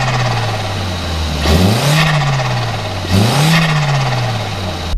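Volkswagen 1.8T four-cylinder with a homemade hot air intake, in a high-mileage cheap car, revs twice from a steady idle, each blip rising sharply then settling back, loud and close with no talking.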